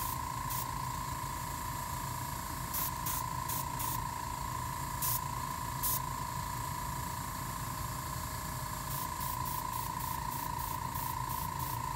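An airbrush driven by an air compressor sprays acrylic paint in a fluid-pour piece, making a steady close hiss with a constant hum beneath it and short sharper bursts of spray recurring throughout.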